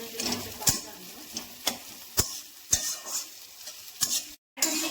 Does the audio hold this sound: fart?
no